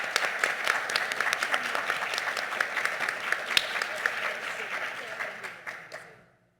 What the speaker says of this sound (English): Can we clap for Zaria one more time?